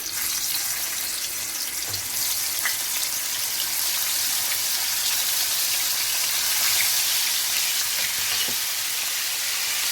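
Turkey pieces frying in hot olive oil give a continuous bright, hissing sizzle with scattered crackles and pops, steady and close throughout with no talking.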